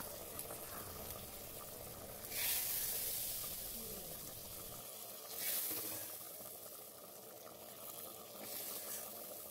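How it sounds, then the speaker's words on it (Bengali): Green peas sizzle lightly in a hot pan (kadai) while being fried for khichuri, a steady close crackle with two brief louder surges of spitting. "এবারে কড়াইশুঁটিগুলো দিয়ে দিলাম এর মধ্যে, দিয়ে হালকা 2-1বার ভেজে"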